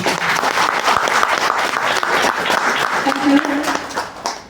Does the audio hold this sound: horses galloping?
no